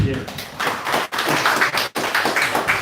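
A church congregation at a Sunday morning service gives a short round of clapping, a continuous patter of many hands with a pastor's voice speaking over it.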